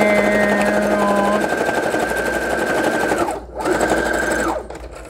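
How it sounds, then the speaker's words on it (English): A Brother sewing machine runs a zigzag stitch on a fabric bookmark, a close, steady rapid chatter that pauses briefly, starts again, then stops. "Zigzagging, number four on the brother."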